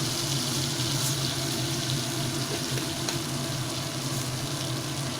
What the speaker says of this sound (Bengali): বাটারটা মেল্ট হয়ে এসছে এবারে আমি এটাতে দিয়ে দেবো হচ্ছে সামান্য জিরে ফোড়ন